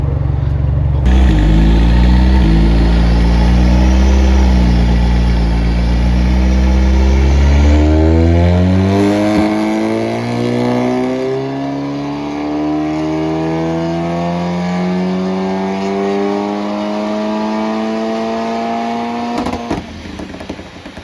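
A 636 bhp Volkswagen Golf R running on an ethanol fuel blend revs loudly and close by, its engine note climbing steadily over about twenty seconds before dropping off near the end.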